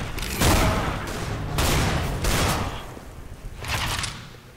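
Bursts of gunfire from a weapon in the shooter game CS:GO, several loud volleys with short pauses between them, close and unaccompanied by talk.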